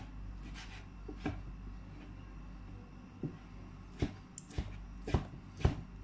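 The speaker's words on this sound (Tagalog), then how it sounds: "Hihiwain lang natin ng maliliit. Gagawin natin siyang cubes." A knife cuts boiled beef into small cubes on a board, giving a few sharp, irregular chops that grow more frequent toward the end, close and fairly quiet over a low background hum.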